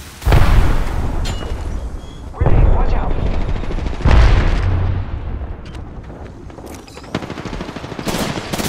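Gunfire and grenade blasts from the Apex Legends video game, with repeated heavy booming bursts and rapid shots overlapping, loud and close, while a voice talks over the action.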